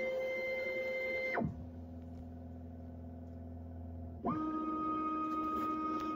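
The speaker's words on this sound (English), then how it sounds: "It does have to calibrate that tray every time you do load one." A 3D printer calibrates its tray, its stepper motors whining in steady pitched tones that sweep down, hold a low hum, then sweep back up, loud and alone.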